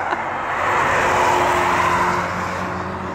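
A BMW M car on the Nürburgring sweeps past with a loud engine roar that swells toward the middle and eases off as it moves away, steady and without talk.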